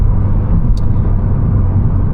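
A Volkswagen Golf GTI 380 accelerates at full throttle on the Autobahn, a loud steady engine drone with heavy low rumble heard from inside the car.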